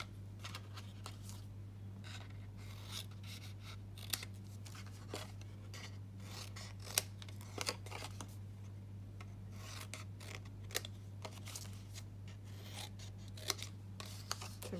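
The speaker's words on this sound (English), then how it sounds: "I might just bring the small scissors in for that one." Small scissors snip through paper in short, quiet, irregular cuts and rasps while a paper accordion-fold box is assembled, with a steady low hum underneath and no talking.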